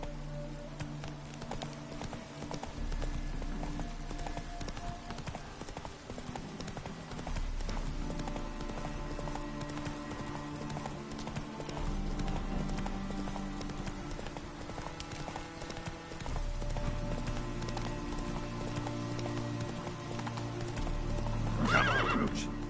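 The horse Roach from The Witcher 3 gallops in steady rhythmic hoofbeats over game music and ambience, with a loud neigh near the end.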